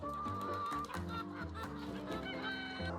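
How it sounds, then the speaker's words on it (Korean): A flock of chickens pours out of a poultry farm coop onto a hillside, clucking busily and overlapping throughout, with a rooster-like crow among them. "신나게 뛰어나온 닭들."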